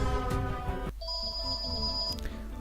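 A telephone rings in the sci-fi video game Rising Angels: Reborn, a steady electronic ringtone with sustained tones over a low game backdrop, shifting to a higher pitched ring partway through.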